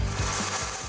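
Metal suspension links for a 4-link off-road build being cut to length, a brief, close, continuous rasping, grinding noise lasting about a second.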